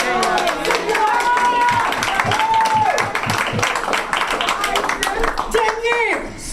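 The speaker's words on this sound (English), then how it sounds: "if you clap, you're clapping for God." Audience applause at a recovery convention speaker meeting, a dense wash of clapping filling the whole stretch with cheering voices and a speaker's talk layered over it.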